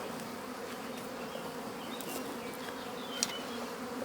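A dense, steady buzzing of a honeybee colony of 25,000 to 30,000 bees, continuous and close, with a faint sharper tone rising briefly near the end.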